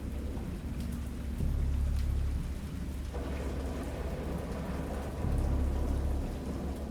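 Thunderstorm in the video game Dagon: steady heavy rain hisses throughout while deep rolling thunder rumbles swell twice, loud and close, with no speech.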